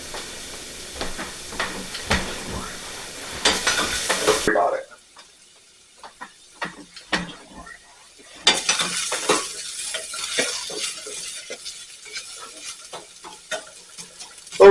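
An onion frying in a pan while being stirred: loud close sizzling with scraping stir strokes, a quiet gap midway, then the sizzle and stirring return under a few spoken words.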